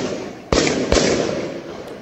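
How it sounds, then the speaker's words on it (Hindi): Two sharp, loud cracks of police gunfire in Pakistan-administered Kashmir ring out about half a second apart over a constant noisy background. "वहां पुलिस ने गोलियां चलानी शुरू कर दी"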